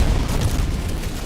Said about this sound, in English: Requesting orbital strike. Firing gas strike.